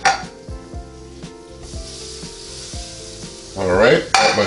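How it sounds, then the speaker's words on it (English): French toast bread sizzles faintly on a NuWave Primo Grill Oven, with a soft crackle under clinking and scraping of cookware and several tonal beeps from the appliance, ending in a louder rustle. "You hear things starting to sizzle some."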